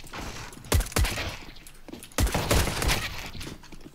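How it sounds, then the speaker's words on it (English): Gunfire in the shooter CS:GO comes as two close, loud clusters of rapid shots, each followed by ringing decay, with quieter game noise between them. "Those shots were so flipping good, man."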